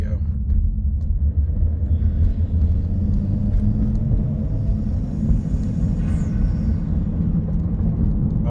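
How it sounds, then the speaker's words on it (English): A deep, steady engine rumble drones throughout from a Chevrolet Malibu's turbocharged 1.5-litre engine under way, with a loud, throaty exhaust and no voices. "I just like to hear that turbo."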